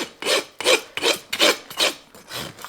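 A farrier's rasp filing a horse's hoof during shoeing, six rhythmic scraping strokes in steady succession, close and clear with no talk.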